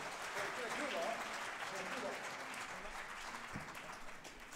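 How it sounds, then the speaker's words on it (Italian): Audience applause after a student masterclass concert, steady clapping at moderate distance with voices mixed in. "Grazie, applauso."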